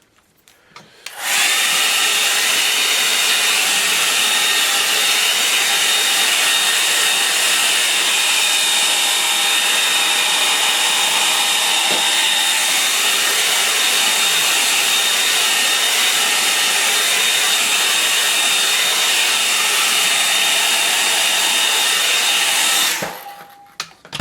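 A hair dryer blows steadily on a freshly painted landscape for over twenty seconds, a loud, even whoosh with a faint whine that starts abruptly and cuts off near the end, with no talking.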